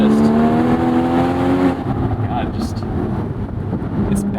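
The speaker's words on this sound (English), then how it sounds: "Obviously, the 718 is also more powerful, but I would take this engine any day." A Porsche Boxster GTS engine revs hard while driving, a loud rising mechanical tone that drops off after a shift, then continues as a rumbling drone with road noise.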